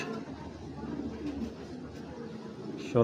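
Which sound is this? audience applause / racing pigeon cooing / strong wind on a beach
racing pigeon cooing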